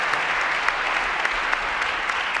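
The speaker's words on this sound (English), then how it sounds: "give a round of applause" Steady, dense applause from a large crowd, continuous and fairly loud throughout with no voices standing out.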